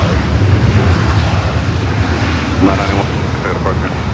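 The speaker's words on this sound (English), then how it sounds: "North side departure for the LL Dreamliner" Boeing 787 Dreamliner departing from LAX, a loud continuous jet engine roar filling the whole stretch, with faint voices and radio chatter briefly audible beneath it.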